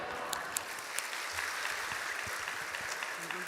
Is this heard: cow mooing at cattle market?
no